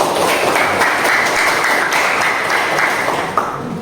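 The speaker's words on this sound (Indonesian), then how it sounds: "kita kasih aplaus dulu kelompok 1" A classroom audience applauds a student group after its presentation, with dense steady clapping that fills the space for several seconds at close range.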